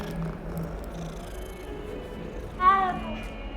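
A cat in the game Hogwarts Legacy gives a soft low purr and then a single clear meow near the end, heard close up over quiet background ambience.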